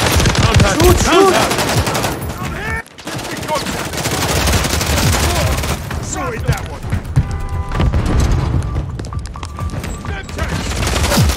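Call of Duty Modern Warfare 3 gameplay is full of loud, rapid machine-gun bursts and overlapping gunfire, with a short break in the middle, while players shout over the shooting.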